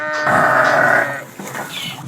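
A goat being checked as a sacrificial animal gives one loud, close bleat of about a second, followed by a fainter, shorter call, with no talking.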